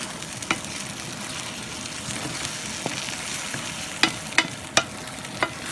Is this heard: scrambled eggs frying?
yes